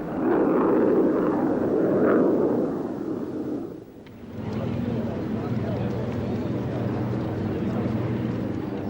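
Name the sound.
MiG-27 jet aircraft with R-29-300 engine flying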